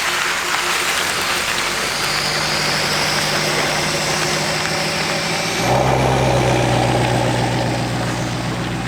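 A Ford 6.7L Powerstroke diesel pickup rumbles at idle while hitched for heavy towing, a steady close low drone that shifts to a deeper, louder tone partway through, with no talking.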